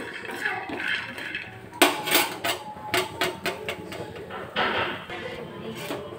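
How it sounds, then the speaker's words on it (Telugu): Peanuts roasting in a pan, stirred with a utensil that gives a run of sharp metallic clinks and scrapes in an uneven rhythm, close and clear. "కొద్దిగా పల్లీలు అయితే వేయించుకుందాము"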